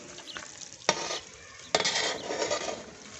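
Boondi frying in ghee is stirred in a pan: a soft crackling sizzle broken by two sharp scraping strokes of the spoon against the metal.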